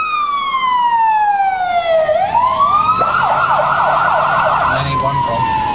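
A loud ambulance siren wails, its pitch sweeping down and back up, then shifting into a rapid warbling yelp before settling into a steady tone.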